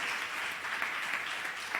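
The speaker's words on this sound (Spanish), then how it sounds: "Aplaudamos al Señor" A church congregation claps together in praise during a Spanish-language Christian sermon, a dense steady round of applause that holds evenly throughout with no speech over it.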